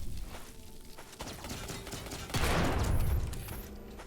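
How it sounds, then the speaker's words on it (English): Supercharged energy shots fire in The Mobius Machine, a dense burst of rapid synthetic blasts swelling to a loud peak midway and holding over a steady game soundscape. "this would be the energy that would allow you to turn red and fire supercharged shots"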